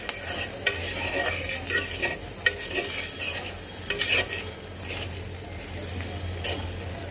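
Spices with coriander powder being stirred and fried in a pan for a fish and potato curry, a steady sizzle under repeated scraping strokes of a spoon, with occasional sharper clinks against the pan.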